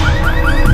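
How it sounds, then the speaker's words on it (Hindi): A green Volkswagen's car alarm blares with loud, continuous rising electronic sweeps that repeat in quick succession, with no voices over it. "वो गाड़ी का अलार्म बज रहा है।"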